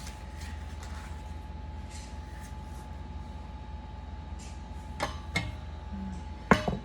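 A screw fastens a metal tray onto a projector stand, producing a few sharp metallic clicks and ticks near the end over a steady low background hum.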